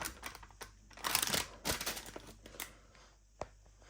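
Packaging paper crinkles and rustles in irregular bursts while seafood is unpacked in a kitchen, with a few crisp crackles, then a quieter pause and a single sharp tick.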